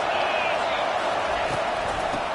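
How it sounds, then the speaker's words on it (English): Steady stadium crowd roar in a football video game, a dense continuous wash of noise with no breaks, loud and even throughout the brief stretch. "This crowd trying to make life miserable for this offense."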